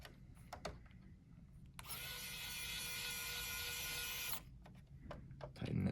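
A small screw is driven in by hand to secure an SSD inside a PS5 console, a steady mechanical whirring and scraping that holds for about two and a half seconds between faint handling clicks and taps.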